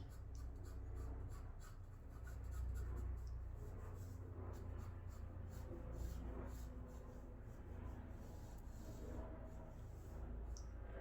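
A pencil sketches a human figure on paper, adding the legs and kneecaps, with steady soft scratching and rubbing strokes running continuously and close throughout.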